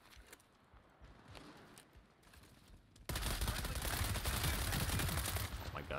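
Gunfire from the video game World War 3, first a scattered distant burst and then a sudden loud, dense stretch of rapid automatic fire that keeps on to the end.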